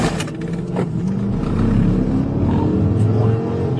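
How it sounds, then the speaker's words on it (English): A fleeing car speeding away from police, engine roaring and rising in pitch as it accelerates, loud and rough, with voices partly over it. "the driver took off, fleeing the scene"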